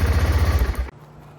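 A fuel-injected BMW GS 650 motorcycle engine runs with a rapid, loud, close thumping pulse that cuts off abruptly partway through, leaving a quiet low hum.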